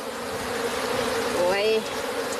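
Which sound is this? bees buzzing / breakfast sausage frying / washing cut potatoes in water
bees buzzing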